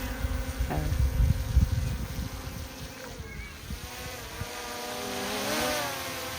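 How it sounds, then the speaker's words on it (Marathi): A close, steady camera drone buzz with rising and falling whine on Mount Pilatus, Switzerland, starting among rumbling noise and growing smoother as the motors spin up. "चला आपला ड्रोन तयार झालेला आहे"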